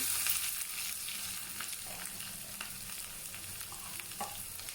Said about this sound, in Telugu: ఆయిల్ కాగిన తర్వాత కాస్త ఆవాలు కాస్త జీలకర్ర కాస్త కట్ చేసుకున్న ఆనియన్